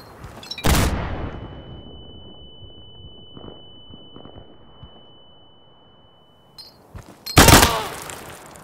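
Frag grenade explosions in Insurgency on the Heights skirmish map: two sharp, loud blasts several seconds apart, the first trailing into a long fading rumble and ringing tone, with faint shots in between.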